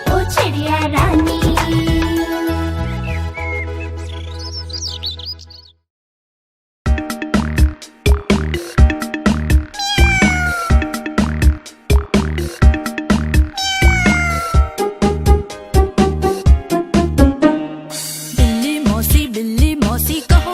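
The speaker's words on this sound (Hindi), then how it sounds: "बिल्ली मौसी कहो कहाँ से आई हो" A sung children's nursery rhyme about a cat, with musical accompaniment and melodic meow-like vocal lines running throughout, loud and rhythmic, with a short silent gap near the start.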